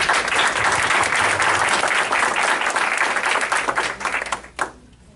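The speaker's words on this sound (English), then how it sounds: "Let's give them a round of applause, please." A crowd at a Miami-Dade County mayoral debate applauds steadily and loudly for about four seconds, then the clapping thins out and stops.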